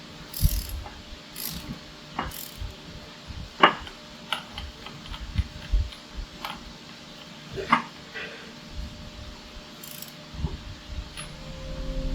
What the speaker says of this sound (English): We're going to torque these bolts to 100 inch-pounds